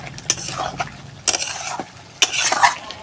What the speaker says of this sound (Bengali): এবার এখানকার তরকারিটাও ভালো করে কষবো